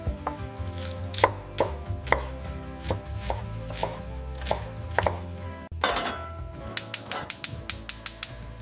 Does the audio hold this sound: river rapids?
no